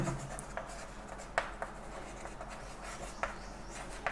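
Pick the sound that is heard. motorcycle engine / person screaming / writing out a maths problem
writing out a maths problem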